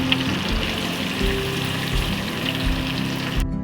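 Chicken pakoda deep-frying in hot oil gives a steady, dense sizzle and crackle that continues at the same level throughout before cutting off abruptly near the end.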